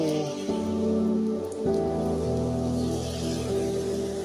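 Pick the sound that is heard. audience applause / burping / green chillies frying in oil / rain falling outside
rain falling outside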